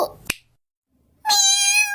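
An orange cat gives a single clear, drawn-out meow up close. It comes after a brief sharp click and a moment of near silence.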